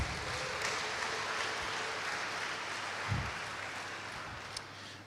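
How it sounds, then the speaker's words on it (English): An audience claps for the event sponsors, a steady wash of many hands applauding at moderate volume throughout, gradually tapering toward the end. "round of applause for our sponsors"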